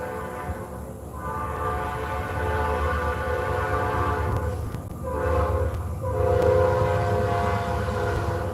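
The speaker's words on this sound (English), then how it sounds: "Oh, here comes a train." A train rumbles past steadily, loud and continuous, with a sustained horn tone sounding over the rolling noise for several seconds.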